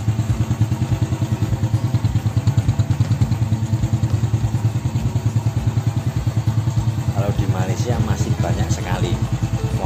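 A Honda EX5 motorcycle idles steadily up close, its single-cylinder engine putting out an even, rapid thumping throb, with faint voices creeping in near the end.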